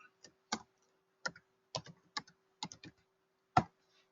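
Sparse keystrokes on a computer keyboard entering a search term, about eight distinct clicks spaced irregularly over a few seconds, close and clean against near silence.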